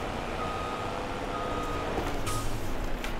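Steady reversing beeps from a truck in Farming Simulator 22, a regular repeating tone heard over a continuous engine rumble at moderate distance.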